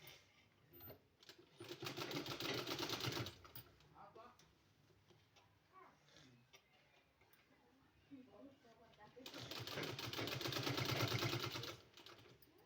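A sewing machine stitches a neck strip onto a kurti in two loud bursts of rapid, steady whirring, separated by a quieter stretch of soft clicks and handling noise.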